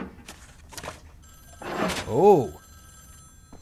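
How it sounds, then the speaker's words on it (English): A telephone rings in the video game Wolfenstein: The New Order, with steady electronic bell tones sustained over game ambience; a brief exclamation and other voice sounds come in over it. "Now where is that phone ringing?"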